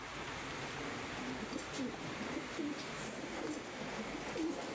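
Pigeons coo softly several times outdoors under a steady hiss of heavy rain, the low calls faint and partly masked by the downpour.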